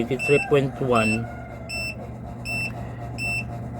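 A solar inverter sounds its low-voltage alarm as battery voltage drops under load: three short, evenly spaced electronic beeps, each a pair of clear tones, follow a man's speech over a steady low electrical hum.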